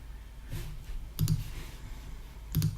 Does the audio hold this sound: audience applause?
no